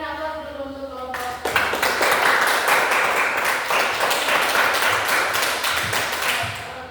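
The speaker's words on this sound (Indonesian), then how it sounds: "berikan aplaus dulu untuk kelompok" A classroom of students bursts into applause for a student group after a brief moment of talk, dense steady clapping filling the room and carrying on to the end.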